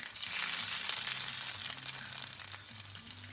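An egg frying in a pan over medium heat, a steady close hiss and sizzle with a low hum underneath, continuous throughout.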